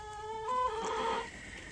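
A laying hen in a backyard chicken coop gives a short, faint run of clucks and a drawn-out cackling call, heard alone at a moderate distance.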